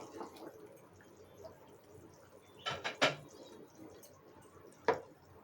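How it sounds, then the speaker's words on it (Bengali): Curry gravy for a cucumber dish simmers in a pot, with a quiet background broken by a few soft plopping bubbles, a small cluster midway and one more near the end. "তরকারির ঝোলটা ফুটে উঠেছে।"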